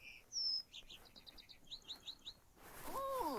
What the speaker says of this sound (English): could you hear him chirping?